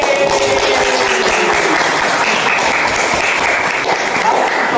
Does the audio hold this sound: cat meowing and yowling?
no